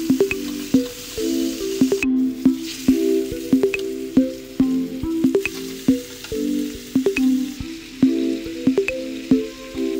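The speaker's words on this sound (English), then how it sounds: "We're gonna fry every piece with some oil just until every side has a deep brown" Oxtail and beef shank pieces frying in oil in a pan, with a steady close sizzle broken by repeated clinks and scrapes of a utensil turning the meat; no voices.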